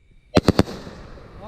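Three sharp fireworks bursts in quick succession at a backyard fireworks display on a private property, loud and close, followed by a crackling, fading tail.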